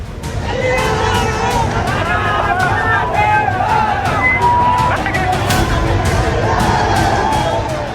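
Large crowd of ABVP student protesters massed on a road facing police barricades, a loud continuous roar of shouting and slogan chanting with overlapping voices and rising bursts.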